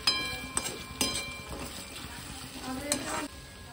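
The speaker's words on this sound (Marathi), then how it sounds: "तर कांदा थोडा भाजलाय तर बारीक कट केलेली शिमला तेलामध्ये सगळं छान भाजून घेते" Onion, ginger-garlic paste and finely chopped capsicum fry in oil in a pan, a steady near sizzle with intermittent scraping stirs and a few sharp utensil clicks, heard alone.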